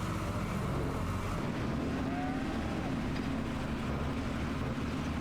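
A vehicle engine idles and runs in Farming Simulator 25, a steady low rumble with a broad noisy drone that stays constant throughout.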